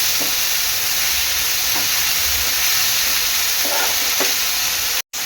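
A mung bean paratha mixture sautéed in a pan gives a continuous loud sizzle and hiss, with faint stirring scrapes under it. The sound runs steadily and then cuts out briefly near the end.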